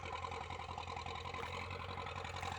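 A tractor engine while plowing under a tall mustard cover crop, a steady mid-pitched diesel drone with a fast regular chug, close and continuous.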